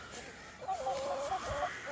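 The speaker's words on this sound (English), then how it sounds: "maybe so you can see the chickens coming at you" Chickens clucking near the coop on a frosty Irish homestead morning, a short warbling run of hen calls heard close over faint outdoor background noise.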